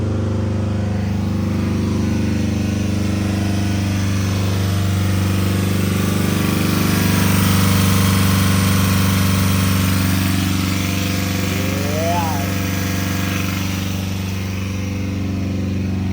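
A loud, steady Honda engine drone running on chocolate milk, with a rough, clanky rattle throughout, and a brief voice near the end.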